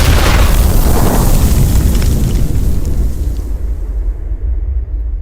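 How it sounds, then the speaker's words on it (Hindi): A loud bomb blast in a dubbed South Indian action film, a dense booming roar that fills the opening seconds and then rumbles and fades away into a dark, thinning tail. "अरे अचानक से किस देवता ने बम फोड़ दिया?"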